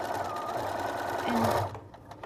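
A sewing machine runs steadily as a quilt piece is stitched onto folded-under muslin, a continuous close whir that speeds up briefly before stopping.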